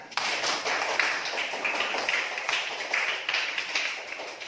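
A classroom of students claps together in a dense, steady patter that carries on throughout, fairly close and even in loudness, with no talking over it.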